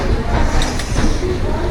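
The Diva–Ratnagiri passenger train rolls out of Panvel with a steady, loud rumble heard from inside a crowded carriage, with faint clanks over the continuous noise.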